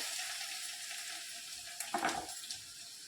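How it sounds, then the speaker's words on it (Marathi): Garlic cloves and asafoetida sizzle in hot oil, a steady hiss that flares into a louder crackling burst near the end as the cloves hit the pan. "लसणाच्या पाकळ्या 4 ते 5 घेतलेल्या आहेत, त्या टाकून घेते."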